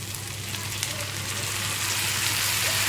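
Spices go into oil with onions already fried red for a fish curry, producing a continuous close sizzle that grows slightly louder toward the end, with no clear speech.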